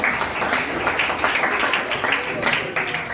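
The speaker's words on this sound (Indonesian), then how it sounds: "Tepuk tangan dulu untuk paling depan." Steady applause from a group of people, dense clapping sustained throughout at an even level.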